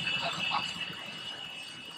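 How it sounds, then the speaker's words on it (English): A machine cutting parts for hand inlay work gives off a steady high-pitched whine and mechanical whir, continuous and close, with no talk. "It's just cutting parts to be hand inlaid."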